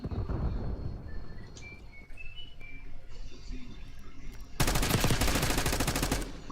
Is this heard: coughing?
no